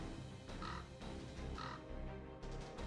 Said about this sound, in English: Can you hear the cries of those birds flapping their wings overhead?